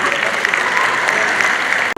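An audience at an alumni gathering bursts into sustained, dense applause, steady and fairly loud for the whole stretch with no voices over it.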